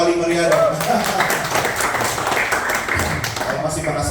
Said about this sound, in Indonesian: Kasih tepuk tangan yang paling meriah dong